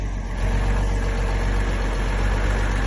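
A restored 1963 Unimog truck engine runs at a steady, loud idle, a dense continuous low rumble with no pauses.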